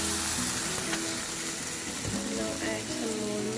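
Milk added to a hot, browning pan for white sauce pasta and stirred, a loud continuous sizzle and bubbling with spoon scrapes running throughout, no talking.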